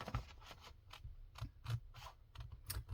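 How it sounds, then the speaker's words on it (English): Scissors cutting slowly around paper ephemera and photo corners, a series of soft, close snips and crisp scratchy clicks in an irregular rhythm, quiet and without talk. "but I need scissor. I'm just going around this slowly because I don't want to cut it accidentally."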